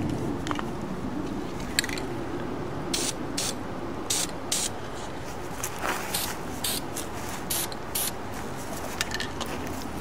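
Short hissing bursts from an epoxy spray paint can, several quick sprays separated by brief pauses over a quiet background.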